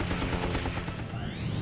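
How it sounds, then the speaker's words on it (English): Aircraft machine guns fire in a dense, continuous rattling burst during a Pacific dogfight, loud and sustained over a roaring engine backdrop, with no voices. "he'll charge him with machine guns blazing"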